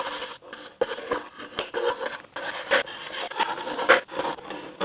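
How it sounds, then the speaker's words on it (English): A scraper rasps and scratches over a painted surface coated with Sherwin-Williams Extreme Bond Primer, in repeated short rough strokes with brief pauses between them, fairly close and loud. "I'm gonna get to scraping and see how it performed."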